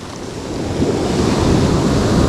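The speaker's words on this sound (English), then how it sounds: "The water kind of rough still, but it will get rougher still" Rough sea surf breaking on a Jamaican beach, a steady broad wash of waves building slightly louder over the stretch, with wind buffeting the microphone and no voices.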